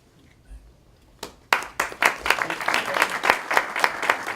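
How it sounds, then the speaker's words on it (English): An audience at a Republican gubernatorial candidates debate at Middlesex Community College applauds the debate moderator, the newspaper editor, as he reaches the podium. A few claps build from near silence into steady, dense applause that fills the room. "It's the first applause I've received in a long time"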